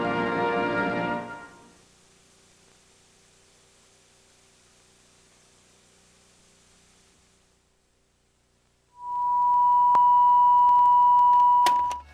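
A 1970s television sign-off: a burst of fading sound gives way to hissing static, then a loud, steady pure tone drones alone until the end.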